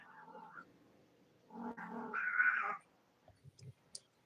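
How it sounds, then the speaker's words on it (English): Several house cats meow in short, close bursts, one longer drawn-out yowl in the middle, followed by a few brief sharp sounds and faint background noise. "All my cats are meowing."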